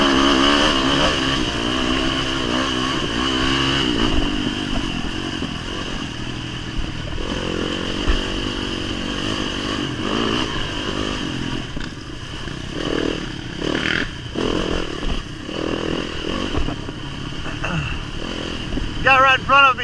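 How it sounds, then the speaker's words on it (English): Dirt bikes race off-road through dry woods, including a 450 motorcycle popping and revving nearby, with engines rising and falling amid clatter and scraping and a rider talking over the noise throughout. "hear that 450 popping"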